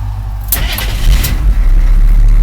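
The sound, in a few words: army truck engine starting without a key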